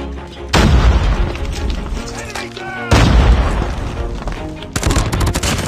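In a mobile shooter game on Android, a grenade goes off as a loud booming blast followed by sustained rumble and gunfire-like crackle, with a second heavy blast and then rapid bursts of shots.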